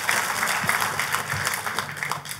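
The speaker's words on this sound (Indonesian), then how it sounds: "Tepuk tangannya yang paling meriah buat Tuhan kita." A church congregation claps in hearty applause during a sermon, a dense, steady wash of many hands filling the whole stretch at moderate level.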